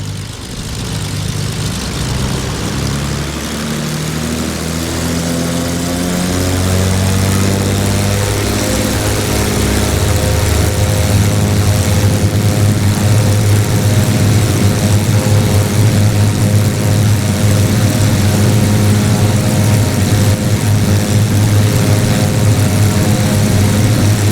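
Twin General Electric CT7-9C3 turboprops of a CASA CN-235, 1,750 horsepower each, spooling up in a flight simulator game, a loud droning engine roar with rising propeller tones that builds and then holds steady.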